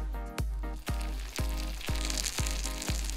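Pastil bihon, a rice noodle snack pressed into a mold, being half-cooked in hot oil: a steady close sizzle with a low hum underneath and a regular thump about every half second.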